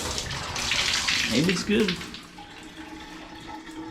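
Water runs steadily from a hotel tap with weak pressure, a broad hiss that swells in the first seconds and then eases, while a person speaks briefly over it.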